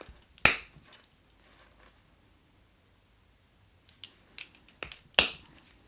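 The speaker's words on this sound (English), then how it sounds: "Then you're going to take a hole puncher, punch a couple of holes." A hole puncher bites through a webbing strap, giving two sharp, close snapping punches a few seconds apart with small clicks and handling noises between them in an otherwise quiet space.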